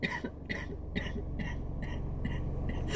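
Repeated short bursts of a person's coughing or throat clearing, several spaced hacks across a few seconds, close and fairly soft over steady low background hum, from someone who has been sick for a while.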